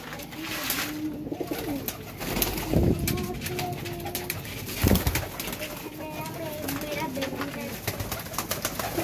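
Domestic pigeons in a loft, including a slate-coloured female, coo repeatedly in low rolling calls, near and fairly loud, with a few brief wing flaps and voices talking nearby.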